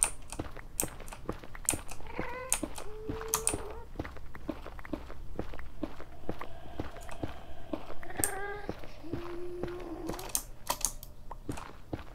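Minecraft gameplay on a survival server: short high wailing ghast cries ring out twice amid a busy stream of clicking keyboard and mouse taps and soft in-game footsteps.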